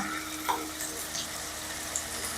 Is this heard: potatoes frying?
yes